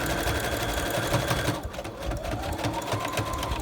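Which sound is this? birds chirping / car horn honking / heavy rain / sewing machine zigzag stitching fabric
sewing machine zigzag stitching fabric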